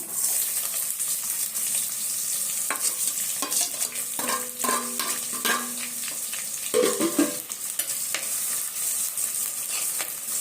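Small onions and crushed garlic sauté in a pan for a Tamil-style fish curry, a steady sizzle running throughout with scraping stirs and spoon clinks layered on top.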